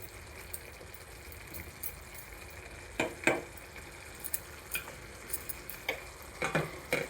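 Paneer and peas curry bubbles in a pan with a soft, continuous simmering hiss. Scattered small pops and clicks break through it now and then, and no one speaks.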